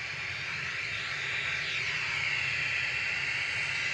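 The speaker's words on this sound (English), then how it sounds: "EasyJet landed in the background" An easyJet airliner lands at Manchester Airport, heard from a distance as a steady, broad jet roar with a hissing edge that swells slightly and holds throughout, with no voices.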